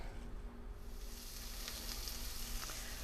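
Onion, garlic and peppers sizzle steadily in a hot pan, a continuous frying hiss that brightens slightly partway through, with no voices.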